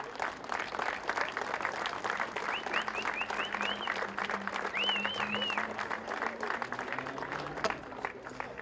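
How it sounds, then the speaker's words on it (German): A crowd at a 2014 motorboat racing event claps in sustained, dense applause with a few whistle-like tones rising above it and voices faintly mixed in. "Danke für diesen Applaus"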